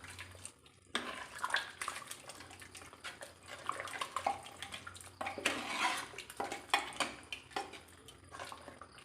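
A ladle stirs a pot of Kerala-style beef curry, producing quiet irregular scrapes, clinks and thick wet shuffling against the metal pot, with no speech.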